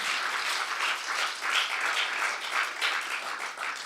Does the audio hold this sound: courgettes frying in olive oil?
no